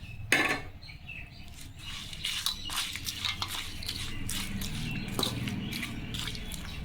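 Tempering is poured over pulihora and mixed in, giving close, quiet scraping and clinking of a spoon against a vessel with a brief splash of oil at the start and steady stirring after.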